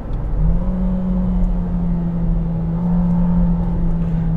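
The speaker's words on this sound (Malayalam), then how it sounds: "എൻജിൻ്റെ സൗണ്ട് ഓഡിബിളാണ് അകത്തേക്ക്." Toyota Yaris engine heard from inside the cabin after a paddle-shift downshift, a loud, steady droning hum that swells slightly as the revs hold.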